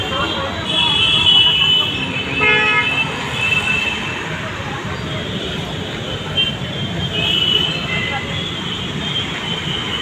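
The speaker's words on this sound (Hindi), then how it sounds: "और ये आज काफ़ी ट्रैफिक है" Heavy Monday road traffic near Vesu in Surat, a steady loud roar of passing vehicles with several short car horn toots scattered throughout.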